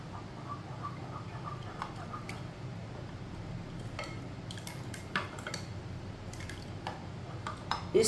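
A spoon clinks and taps against a glass while Rooh Afza sharbat is stirred with malanga seeds, soft scattered ticks and clatters over a faint background hum, ending in a slightly louder knock.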